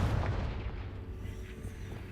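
A Confringo explosion spell from a Harry Potter video game goes off as a deep, rumbling boom that fades over about two seconds.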